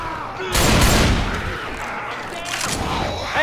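Gunfire in a video game, a dense burst of rapid shots loud and close at first, then scattered further shots and clatter trailing off over a couple of seconds.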